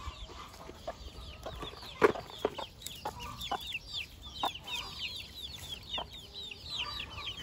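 A hen clucks after laying an egg, with other chickens around. Soft, steady clucking and chatter carry faintly and continuously.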